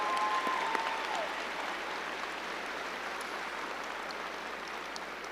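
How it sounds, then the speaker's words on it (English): A graduation crowd at Lakewood High School applauds from a distance, a faint, steady wash of clapping that holds evenly the whole time, with a brief tone near the start. "Please join me in giving them a round of applause"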